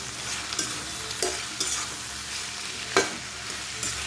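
Kushi bhaji cooking in a pan with whole cumin, a steady close sizzle of frying with several scraping stirs of a spoon cutting through at irregular intervals.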